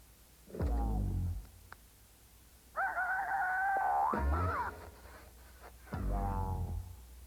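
A cartoon rooster crows loudly in a mid-1990s Kellogg's Cornflakes television advert: a short squawk, then a long drawn-out cock-a-doodle-doo, and a final crow after a pause, each close and clear over quiet background.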